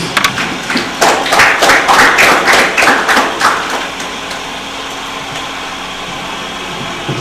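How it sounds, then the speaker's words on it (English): An audience at a live student genius competition in Nigeria gives a team a brief burst of clapping that rises quickly, holds for a few seconds and then dies away, leaving a quiet room hum. "let us give them a round of applause"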